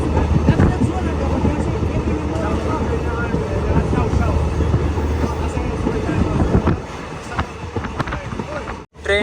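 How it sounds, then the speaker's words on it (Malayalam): Local train arriving at Budgam station in Kashmir, a continuous rumble with rattling carriages and occasional clunks heard from on board, steady and fairly loud, with a voice talking over it. "ട്രെയിൻ ഇപ്പോൾ ബുദ്ഗാം സ്റ്റേഷനിലേക്ക് ഇതാ എത്തിക്കൊണ്ടിരിക്കുകയാണ്"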